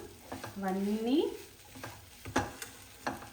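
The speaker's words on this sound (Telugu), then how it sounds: "ఇదంతా మిక్స్ చేసుకుందాము" Moong dal kachori filling of ground lentils with salt, chili powder, masala and fenugreek being mixed by hand or spoon in a bowl, giving soft scraping and stirring sounds with a few sharp knocks; no talk.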